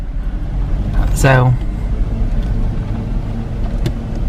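A Jeep drives an off-road trail at Wild Cat Off Road Park, its engine a loud, steady low rumble throughout, with a voice speaking briefly over it.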